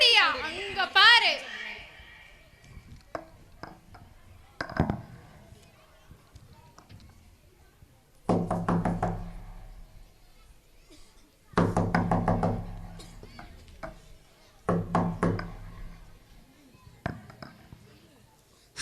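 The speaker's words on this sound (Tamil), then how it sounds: "யாரோ கதவை தட்டுறாங்க" Sharp knocks on a door ring out in separate bursts during a school annual day Arabic skit, clustered in groups of raps with quiet gaps between, fairly close and clear.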